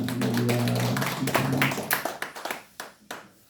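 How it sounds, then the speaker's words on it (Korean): A church congregation claps together during a Sunday worship service, a brisk burst of applause that thins into a few scattered claps as it fades, with faint background murmur. "박수로 하나님께 영광 돌립니다."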